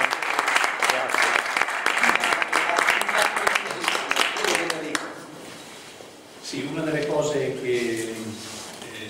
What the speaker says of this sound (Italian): Vorrei che facesse un applauso a Giancarlo Di Dorsi.